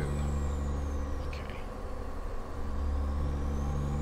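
A custom pickup engine in American Truck Simulator runs steadily with a low droning hum, easing briefly then building again, with a faint air-brake-like hiss midway and no talk.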